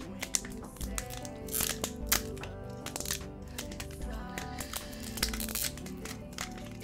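Crinkly plastic wrapper of a Pokemon Champion's Path card pack being worked open by hand, with repeated sharp crackles and crinkles in bursts over several seconds, close and fairly loud, no speech.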